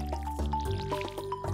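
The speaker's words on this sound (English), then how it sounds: "I might as well water the fucking place now." Short, bubbly trickles and drips of water from a watering can soaking crops in the Stardew Valley video game, a few quick liquid splashes in a row with game music tones beneath.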